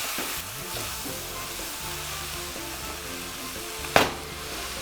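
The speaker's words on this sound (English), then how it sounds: "you're going to put your breakfast sausage in there" Breakfast sausage sizzles and fries with onions in a pan for Cajun-style biscuits and gravy, a spoon stirring and breaking it up, with one sharp scrape or clack near the end.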